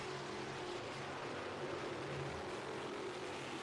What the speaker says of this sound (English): I hear an engine starting to break up a little bit